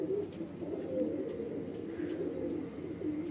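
Low, soft cooing from Garra pigeons kept by a pigeon fancier, a continuous murmuring coo close by, with no talk over it.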